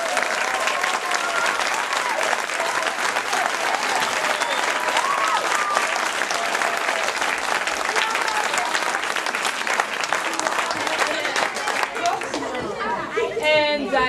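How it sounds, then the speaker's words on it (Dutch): Steady, sustained audience applause fills the hall after a Dutch primary school group 8 musical, with loud continuous clapping and crowd chatter underneath until the end. "En daar wil ik toch wel een extra applaus voor."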